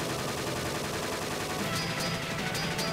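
Rapid bursts of video game gunfire crackle loudly and continuously, with sharper individual shots punching through near the end, and no talking over them.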